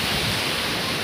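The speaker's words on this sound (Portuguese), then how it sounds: "Ó, o mar." Sea waves break steadily against rocks along a rocky shore, a continuous loud wash of surf with no voices.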